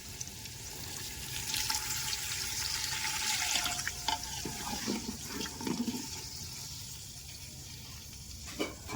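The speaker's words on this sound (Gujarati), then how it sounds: "હવે નાખી દેવાનું પાણી જો" Water pours steadily into a cooking pot with a continuous splashing rush, close by, with a few clinks and a louder splash near the end, about one and a half litres added to an aubergine curry.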